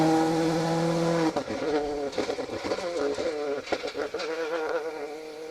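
A Citroen C3 rally car passes on a rally stage, its engine first holding a steady high drone, then breaking into revving, shifting snarls as it goes by close and loud.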